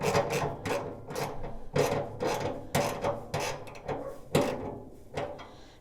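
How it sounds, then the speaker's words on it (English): A ratchet runs a bolt down on a Z Grills 700D4E pellet grill during assembly, giving a series of raspy, rhythmic clicking strokes, close and fairly loud, with short pauses between pulls and no talking. "So we'll take the ratchet there. We'll run that down."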